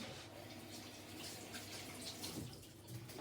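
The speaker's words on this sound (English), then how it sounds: "Let me just wash my hands 1 second." Water runs steadily from a tap as hands are washed, a close, continuous hissing splash with faint dripping and no voices.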